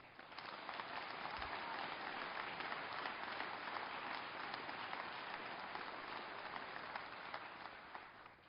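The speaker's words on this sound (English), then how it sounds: "Clap for those gentlemen" Sustained audience applause in a large hall honoring two fire-safety researchers at a fire-service address: a dense, even wash of many hands clapping, steady and unbroken throughout.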